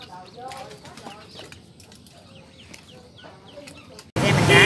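A pair of large Chinese King pigeons flap their wings in short bursts, with soft flutters and faint clucking close by, followed by a sudden loud rush of noise at the end.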